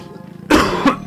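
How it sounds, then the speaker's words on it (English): A person coughs once, loud and close, with a second shorter cough following, during a Banjo Kazooie gameplay session. "Oh, not the time to be coughing."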